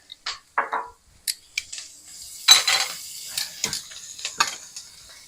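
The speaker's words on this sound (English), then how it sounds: "And they'll start sizzling right away." Onions sizzling in a hot pan with sharp crackles and a few clinks of a utensil against the pan, close up, no talking.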